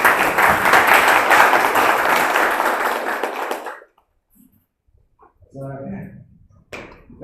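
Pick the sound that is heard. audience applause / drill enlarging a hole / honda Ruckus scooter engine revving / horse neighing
audience applause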